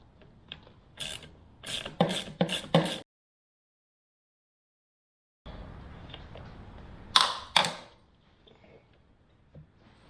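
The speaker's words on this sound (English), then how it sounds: "Use an 8mm socket to remove these 2 bolts." A ratchet with an 8mm socket loosening air intake bolts on a Toro Timemaster mower, with quick bursts of close clicking, then a pause of silence and a couple more sharp ratchet clicks.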